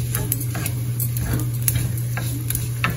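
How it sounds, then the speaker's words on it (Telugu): Mustard seeds, cumin and dried red chillies crackle and sizzle steadily in hot oil in a pan, with scattered sharp pops and spits over a constant low hum, no talking. "దీని తర్వాత ఇలాగా పోపులు వేసుకోవాలి. కొంచెం ఆవాలు, జీలకర్ర, ఎండుమిర్చి"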